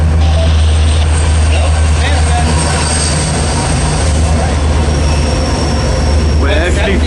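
A manifest freight train passes close by on the Fort Wayne Line with a loud, steady rumble and wheel noise, and a faint squeal toward the end.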